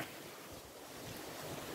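Wind buffets the microphone with a continuous, rough, broadband rush, fairly loud and unbroken, with no other sounds.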